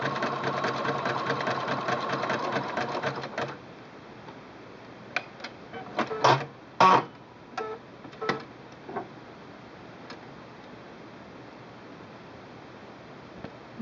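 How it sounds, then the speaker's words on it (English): A Singer Quantum L-500 electronic sewing machine runs a steady, fast close-up stitching whir on its widest 9 mm zigzag for a few seconds, then stops, followed by scattered clicks and taps from the machine. "one more time to the widest zigzag this machine will do"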